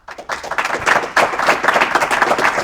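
A group of men at a high school football roundtable broadcast clapping for a guest, a brisk, close burst of steady applause lasting a few seconds with no voices over it.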